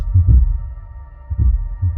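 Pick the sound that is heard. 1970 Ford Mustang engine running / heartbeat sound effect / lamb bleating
heartbeat sound effect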